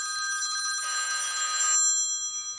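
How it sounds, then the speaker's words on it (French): A telephone rings inside a box holding an ant colony, one bright electronic burst of about a second standing out over a faint background, with the ring tone lingering afterward. "La sonnerie retentit"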